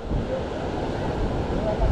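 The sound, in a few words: sea waves at the seashore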